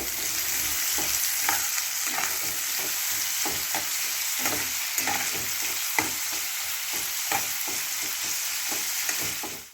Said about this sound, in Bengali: মিডিয়াম চারটে পেঁয়াজ পেঁয়াজটা বেশ একটু লাল লাল করে ভেজে নেব